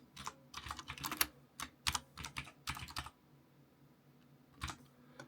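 Computer keyboard keys tapped in quick uneven bursts to type a file name, close and fairly quiet, with a pause before a final short flurry of keystrokes.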